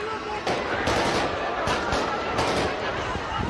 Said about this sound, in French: on s'entend que c'est peut-être une vraie extrait d'une fusillade